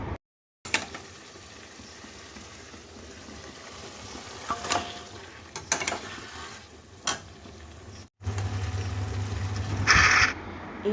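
Fish frying in a pan of cooked-down spice masala with potatoes, a steady low sizzle broken by occasional scraping stirs and a louder hiss near the end, no voices.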